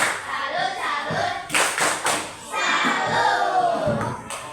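Children clapping the 'tepuk salut' chant in an elementary school classroom, rhythmic bursts of claps mixed with chanting voices, close and loud.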